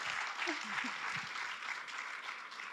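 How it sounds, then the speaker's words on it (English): An audience at an evening talk with a Holocaust survivor claps steadily for nearly three seconds, a dense, fairly quiet patter of hands filling the room, with a few low voices murmuring underneath. "They're clapping for you."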